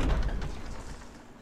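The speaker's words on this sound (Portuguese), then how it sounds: "Vamos entrar nessa porta dupla." A double door opens in the Wii version of the video game Resident Evil 4, with a single heavy low thud at the start that fades out quickly.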